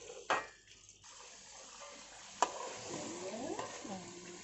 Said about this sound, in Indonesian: Kita biarkan mendidih dulu. Ya, kita biarkan dia mendidih.